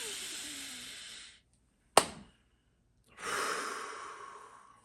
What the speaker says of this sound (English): We're going to take our deep breath